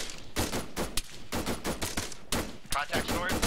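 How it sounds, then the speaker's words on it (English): Rapid gunfire during a military platoon training exercise, dense volleys of loud cracks in quick bursts, close and continuous with short gaps. "Getting shot at from our east."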